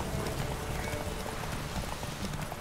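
A horse gallops in a race in The Witcher 3: Hearts of Stone, a dense, steady drumming of hooves under continuous loud rushing noise, with no distinct pauses.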